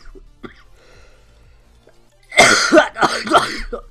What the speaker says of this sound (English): I've literally just had the biggest coughing fit in my life